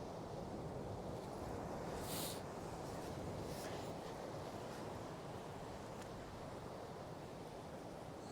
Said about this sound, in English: God, it's really windy, so the audio quality is probably awful.